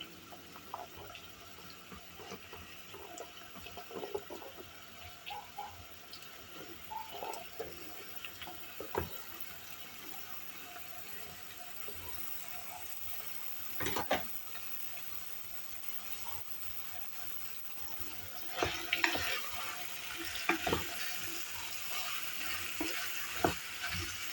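Steady sizzling of chopped turnips frying in a pan, with intermittent scraping and clinks as they are stirred, close and moderately loud.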